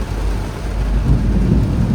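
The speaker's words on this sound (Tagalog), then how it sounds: "Yan, kumukulog na naman." Deep, sustained thunder rumbles through heavy typhoon rain, a broad low roar filling the whole stretch at steady loudness, heard from under a bridge.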